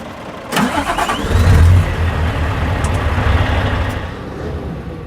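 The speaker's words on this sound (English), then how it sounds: "I'm just going to start this up now and give you guys a listen to the V8" A Scania truck's V8 diesel cranks and catches about half a second in, surges briefly, then settles into a steady, close, rumbling idle that continues to the end, with no talking over it.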